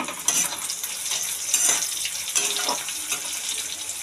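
Slit green chillies hitting onions frying in hot oil in a pan, a continuous close sizzle with bright crackling bursts and brief stirring scrapes.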